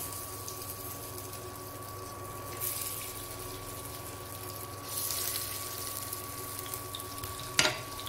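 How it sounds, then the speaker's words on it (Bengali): Prawn and fig sticks shallow frying in hot oil, giving a steady close sizzle throughout with a couple of louder bursts as pieces go in, ending on a sharp clink near the end. "এবার এটাকে বার করে এবার আমি শ্যালো ফ্রাই করব। তেলও আমার গরম হয়ে গেছে, পরপর আমি দিয়ে দিচ্ছি।"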